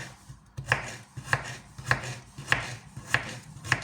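A cucumber is sliced with a knife on a board in a steady rhythm of seven or so close, crisp chops, about one every half second, with no talking.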